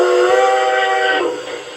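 An LGB 2019S Mogul garden-scale model steam locomotive with a Zimo sound decoder opens its cylinder valves, giving a loud, steady steam hiss with a whistle-like tone that fades after about a second.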